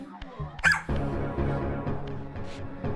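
A dog gives short yips and barks that slide into whimpering, close and lively, over steady background noise with a voice speaking at moments.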